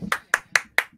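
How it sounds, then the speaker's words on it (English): Four sharp hand claps in an even rhythm, close and crisp, each ringing out briefly before the next. "This is me clapping to the side of my mic."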